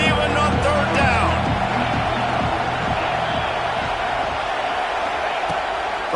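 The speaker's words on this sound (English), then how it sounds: "The noise reverberating off the checkerboards in Neyland on third down." Steady, roaring crowd noise fills Neyland Stadium during a third-down football play, a continuous dense wash with faint rhythmic thumps beneath it.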